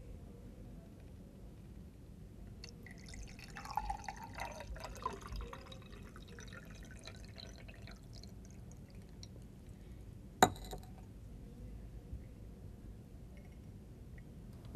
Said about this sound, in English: Now pour water in one of the glasses.